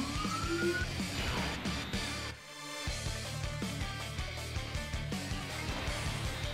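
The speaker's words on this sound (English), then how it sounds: "like another freaking car came in with sirens" A police car siren wails outside, fairly faint and distant, while a game's music and effects play loudly in the room during a Dragon Ball Z Dokkan Battle session.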